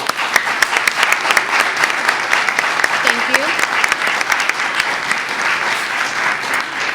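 Audience at an education justice panel discussion applauding the panelists, sustained dense clapping throughout with a brief spoken thanks partway through.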